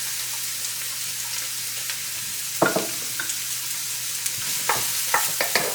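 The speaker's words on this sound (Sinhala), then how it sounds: "ලුණු ටික ඉක්මනට මම මේ සොටේ කරගන්න ලුණු ටිකක් දානවා." Onions sauté in olive oil for Sri Lankan kale mallum with a steady, soft background sizzle, broken by a few sharp, close scrapes and clinks of stirring.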